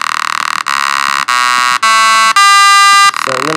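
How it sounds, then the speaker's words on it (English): A bright, buzzy sawtooth synth preview in an Ableton Live sampler for psychedelic trance, playing a series of sustained tones in steps of a few seconds each, loud and close, ending in a wobbling, warbling tone. "I'm going to use a sawtooth. I think it's more of a traditional psychedelic trance sound."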